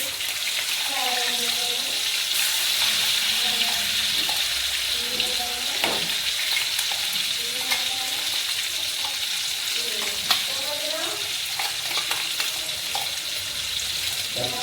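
Chili and garlic paste fries in hot oil for a fenugreek dish, a steady sizzling hiss with occasional clinks, while a voice talks intermittently over it throughout.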